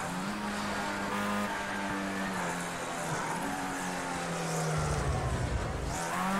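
A Formula A race car in Project Cars 2 rounding a turn, its engine holding a steady droning note that dips and rises through the corner, with a brief tire scrub near the end, continuous and close.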